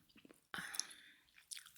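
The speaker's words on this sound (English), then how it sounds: "lovely chewing gum" Gum being chewed close to the microphone in a quiet ASMR setting, with soft wet smacking and squishing bursts, the loudest stretch starting about a third of the way in, over near silence.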